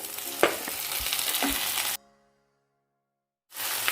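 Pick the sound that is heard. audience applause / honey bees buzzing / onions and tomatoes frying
onions and tomatoes frying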